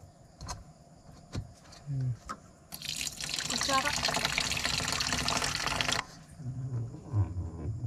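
Water is poured onto flour while making kalamay, a steady splashing rush of about three seconds in the middle, with a voice talking before and after.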